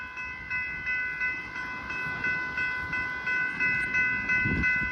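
An Extrapolis train passes the Bear St level crossing at Mordialloc in windy rain, sustained crossing-bell tones ringing over a rhythmic, pulsing rumble of wheels close by.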